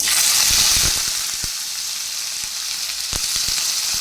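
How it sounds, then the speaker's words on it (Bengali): Ivy gourd (kundri) fries in hot oil in a wok with a bright, continuous hiss, broken by a few sharp crackles and pops, close and alone with no voices. "চিচিঙ্গা আর এই যে কুঁদরি ভাজা করব"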